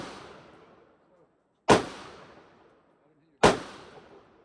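Two sharp gunshots from a Glock 23 pistol on a shooting range, about two seconds apart, loud and close, each trailing off in a short echoing tail, with no speech between them.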